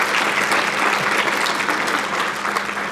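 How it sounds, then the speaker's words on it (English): Loud, sustained applause from a conference audience at a Cherokee symposium, steady dense clapping filling the room throughout. "Let's hear an applause for that"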